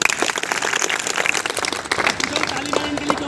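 A crowd claps in uneven bursts, fairly close, with a voice speaking briefly in Hindi over the clapping.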